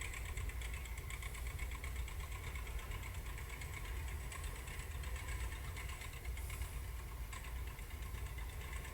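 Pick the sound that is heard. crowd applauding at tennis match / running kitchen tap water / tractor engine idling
tractor engine idling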